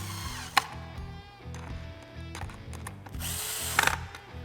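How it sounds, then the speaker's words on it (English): A No. 2 Phillips screwdriver tightens screws on a Lowrance Recon trolling motor pedal, giving quiet clicks and scraping turns over a faint low hum. "use our number 2 Phillips screwdriver to tighten the screws"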